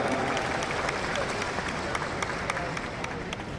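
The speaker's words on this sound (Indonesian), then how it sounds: "Berikan tepuk tangan." A large audience at the KAI IV congress at Edutorium UMS in 2024 applauds, a dense, continuous wash of clapping with crowd murmur underneath, fairly loud and even.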